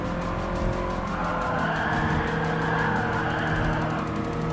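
A Toyota 86 GT or Subaru BRZ race car in Gran Turismo Sport slides through a right turn, its engine droning steadily under a continuous tire skid and squeal for several seconds.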